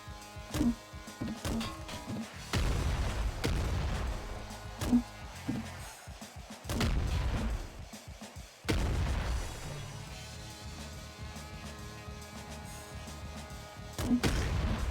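Heavy booms from a grenade launcher in the game Nuclear Throne, several loud blasts spaced irregularly over a stretch of rapid smaller pops and action noise.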